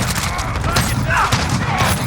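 Rapid shotgun and rifle fire in a chaotic multiplayer shooter game, dense booming shots layered with muffled voice chat and bursts of explosions, continuous and loud throughout.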